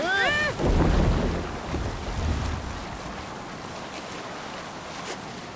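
Sailing ship out on open sea in Assassin's Creed Valhalla, a steady rush of wind and water with waves washing against the hull, loudest at the start before settling into a constant breezy roar.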